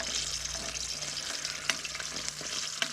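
Seaweed sizzles in hot oil in a camp pan, a close, steady frying hiss broken by small pops and a few light stirring clinks, with no voices.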